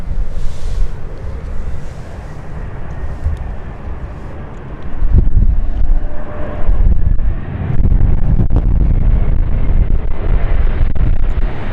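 An aircraft on final approach to London City Airport in gusty wind: a low, rumbling engine roar with wind buffeting the microphone, swelling louder in the second half and carrying on steadily with no talk.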